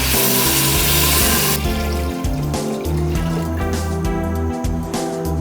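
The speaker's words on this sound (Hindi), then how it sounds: "अब इनमें पानी डाल देंगे।" Water poured into a cooking pot of fried mutton trotters with garam masala and salt, a steady loud rush with a sizzling hiss at first, then bubbling and clattering over a low hum.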